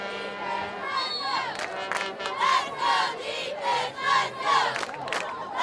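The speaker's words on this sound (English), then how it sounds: "Cheer squad for Wayne, trying to get the crowd into it." High school football stadium crowd cheering and chanting in waves as a cheer squad rallies the home fans, rising shouts swelling and fading in a loud outdoor roar.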